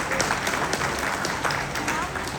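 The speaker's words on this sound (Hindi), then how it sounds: "शैलेंद्र पांडे जी ने बड़े अच्छे सूत्र दिए, तो उनके लिए तालियां बनती हैं," Audience applause at a spiritual talk, a dense, steady wash of many hands clapping throughout, fairly loud and continuous with no clear breaks.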